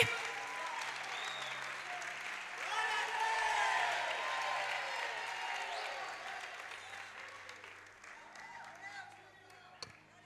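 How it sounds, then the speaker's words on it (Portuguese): A church congregation claps in a dense, sustained round of applause that swells and then thins out, with a voice rising over the crowd. "Pode aplaudir o Espírito Santo nessa noite?"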